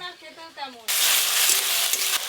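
Ginger garlic paste drops into a hot pan with onions and breaks into loud, steady hissing sizzle after a brief spoken moment, with a few faint stirring clinks.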